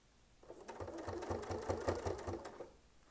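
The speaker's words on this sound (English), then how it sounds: "Sew down until your foot touches, and then just sew up." A sewing machine with a ruler foot stitches a quilt border, its motor running up for about two seconds in a quick even pulse of stitches before slowing and stopping, close and clear with no talk.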